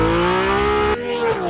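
1975 Ferrari 312T Formula 1 car with a 3-litre 12-cylinder engine, heard as a loud, high, sustained wail that climbs in pitch, cuts briefly on a shift, then rises again up close.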